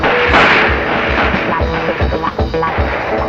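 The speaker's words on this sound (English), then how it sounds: "This is one of many opportunities the recruits will have to qualify with their rifle." Recruits firing rifles on a range at MCRD San Diego in 1973, a loud, steady series of sharp shots at roughly half-second intervals over a dense, noisy background.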